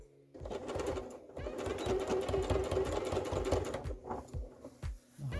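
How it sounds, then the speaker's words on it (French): A sewing machine runs steadily while stitching a Rochelle dress with a zip, giving a close, rapid mechanical needle rattle in one long burst that slows and stops near the end, with a few faint clicks. "On va coudre."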